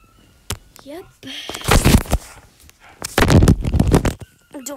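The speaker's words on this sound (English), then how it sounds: "Don't mind my dog barking." A dog barks and yips in sharp bursts, close by, alternating with a person talking over and between the barks.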